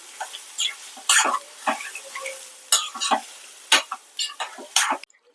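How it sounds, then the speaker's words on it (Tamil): Spinach keerai masiyal stirred in a pan, a series of close, uneven scraping and squelching spoon strokes over a faint sizzle, about a dozen irregular bursts, no talk. "கீரை மசியல் சேர்த்துக்கிட்டேன் இதை நல்லாவே கலரி விட்டுக்கிறேன்"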